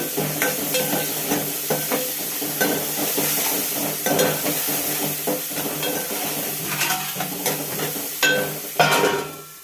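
Green chillies with salt fry in a pan, a steady close sizzle with frequent clinks and scrapes of a spatula stirring against the metal throughout.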